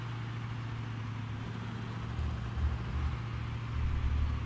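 A Ural truck loaded with logs in BeamNG.Drive runs below full throttle. Its engine gives a low, steady rumble that swells slightly toward the end, with no talking.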